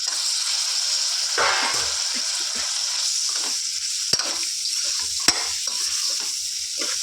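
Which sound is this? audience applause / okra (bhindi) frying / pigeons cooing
okra (bhindi) frying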